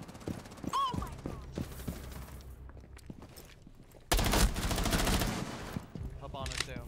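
Gunfire in the video game Rainbow Six Siege on Xbox One X: scattered shots early, then a loud sustained burst of automatic fire, with players speaking in between.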